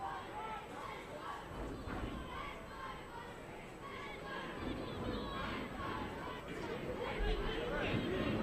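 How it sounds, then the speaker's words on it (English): Crowd of young football fans cheering behind the goal at an Australia Cup NSW match between Bonnyrigg White Eagles and Hakoah Sydney City East, a continuous distant roar and chatter with shouts rising toward the end. "the fans are absolutely cheering their side on"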